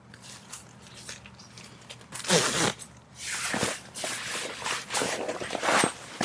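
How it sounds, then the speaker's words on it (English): A ShiftPod 2 tent floor is zipped in along its edge, giving close, rasping zipper pulls in uneven bursts with rustling fabric between them. "Continue to pull the floor along the way and zipper in."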